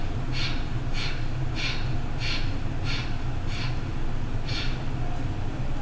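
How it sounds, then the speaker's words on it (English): Eight short, rhythmic sniffs push breath out through the nose during a Kundalini yoga breathing exercise. They are evenly spaced and close, over a steady low background hum. "Inhale 8 sniffs, exhale 8 sniffs"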